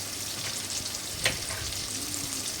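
Carrot pieces frying in a pan with a tempering of onions and green chillies, a steady close sizzle throughout with one brief stir or clink in the middle.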